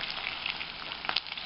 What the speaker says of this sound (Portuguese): nossa carninha já tá fritando.